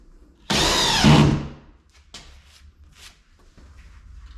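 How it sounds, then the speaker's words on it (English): A DeWalt drill drives a screw into drywall in one loud, close whirring burst of about a second, followed by quieter scraping and handling sounds. "So I'm just putting light pressure on it and the drill do all the work."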